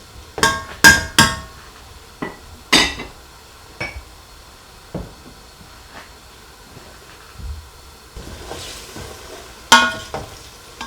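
Onions frying in oil for a red kidney bean curry are stirred in the pan, with sharp, irregular knocks and scrapes of the spoon against the pot over a faint background sizzle.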